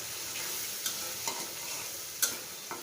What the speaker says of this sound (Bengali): মাছটা আজকে আমি কষিয়ে রান্না করব